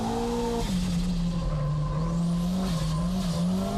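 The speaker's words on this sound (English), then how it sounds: "Arito's S15 fighting out of the corner with excess power" A Nissan S15 race car powers out of a corner at Fuji with excess power, its tires squealing in a long sustained wail over the loud, steady roar of the engine.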